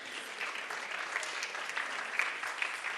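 An audience at a Bharatanatyam arangetram claps in steady, dense applause, sustained and even throughout, heard from within the hall without talk.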